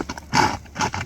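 A thick-hoofed horse neighs up close while its hooves clop, with whinnies rising in two loud bursts over a few quick hoof knocks.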